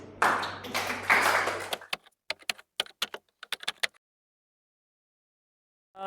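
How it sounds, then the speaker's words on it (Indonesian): Children in a classroom clap for groups A to D: a dense burst of noise gives way to a couple of seconds of sparse, separate claps from a few hands, followed by silence. "Tepuk tangan buat kelompok A sampai D."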